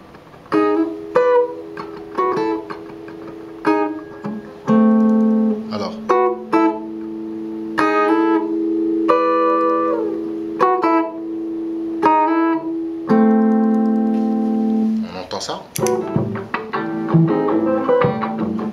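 A solo guitar plays a rhythm part in close, clear tone, with strummed chords and picked notes that ring in short repeated phrases and keep a steady pulse.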